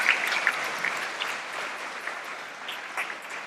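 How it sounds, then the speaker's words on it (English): Audience applause at a business conference session on entrepreneurship, a steady, dense burst of clapping from a sizable crowd, continuous throughout with no talk over it. "A round of applause."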